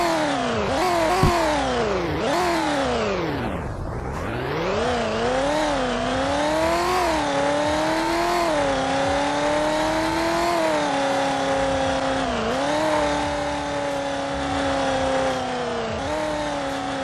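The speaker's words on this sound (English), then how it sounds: "The first car that was updated is the 2015 Chevy SS." A 2015 Chevy SS engine in a video game revs loudly and continuously, pitch rising and dipping repeatedly with a sharp drop near the start, running alone with no talk.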